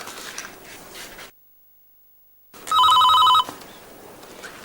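A telephone bell rings loud and close in one sharp trilling burst of about a second, following a brief silence and set in an office room tone.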